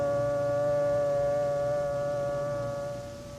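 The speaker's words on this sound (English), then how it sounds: "The signal is a long, steady blast on the civil defense sirens or other warning devices." A civil defense warning siren sounds a long, steady blast, one loud sustained tone holding level and then fading slightly toward the end, with nothing else heard.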